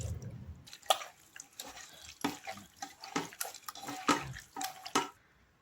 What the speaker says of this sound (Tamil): அந்த எண்ணெயை இப்போ சேர்த்துடலாம்.